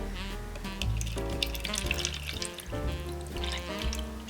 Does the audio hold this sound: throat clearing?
no